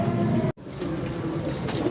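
A pigeon coos softly and repeatedly at close range, the low rolling calls cut by a brief moment of silence partway through.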